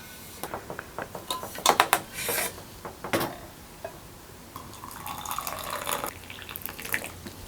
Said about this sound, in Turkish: Şimdi termosun kapağına suyu dolduruyorum.